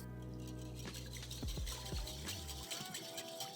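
A spoon stirs wet pakora batter ingredients of water and vegetable oil in a bowl close by, with soft squelching and liquid sloshing over a few seconds.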